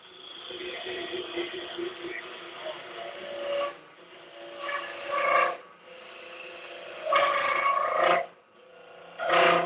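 A box scraper rasps against rough spinning wood on a lathe, producing repeated scraping bursts separated by short pauses as the turner cleans up the surface.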